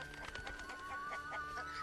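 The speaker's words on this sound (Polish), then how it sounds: "O, tu są gęsi." Geese or ducks in The Witcher village, a short burst of nasal honking and clucking calls, faint and close together over a quiet ambient background.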